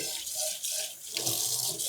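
Water runs steadily from a tap into a sink, a close, continuous splashing rush that briefly dips before resuming.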